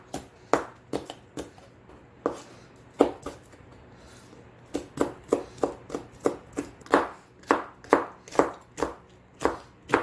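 Knife chopping paprika, chili peppers, onion and green onion on a board, a steady run of close, crisp thuds in quick bursts, with a brief pause before the cutting picks up again.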